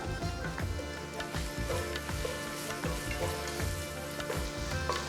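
A medium tomato dropped into hot oil for Telangana-style bagara rice sizzles and crackles steadily, a dense, close frying hiss with small pops throughout.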